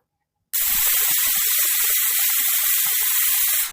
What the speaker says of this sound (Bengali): আমার সিটি বেজে গেল কুকারের